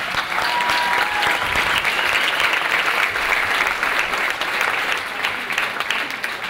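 Applause from a lecture audience for a cooking team at a talk on note by note cooking, a continuous full round of clapping at even loudness from start to end.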